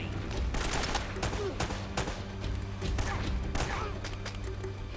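Gunfire in the video game Uncharted: Drake's Fortune, with dense bursts of shots and thumping impacts crowding the scene, loud and continuous, while a player's voice talks over part of it.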